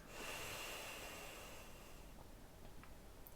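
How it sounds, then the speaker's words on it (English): A long, forceful exhale through one nostril during yoga alternate-nostril breathing, an airy rushing breath up close that fades after about two seconds, with faint small sounds after. "Put your finger on your left nostril, breathe out."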